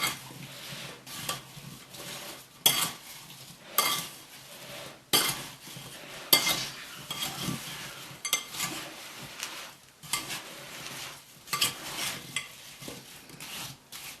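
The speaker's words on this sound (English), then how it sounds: "a large spoon and keep turning the apples till they're all coated with the cinnamon and" A large spoon turning apple pieces in a bowl with cinnamon, flour and sugar, close scraping and clinking strokes in an uneven rhythm, alone without talk.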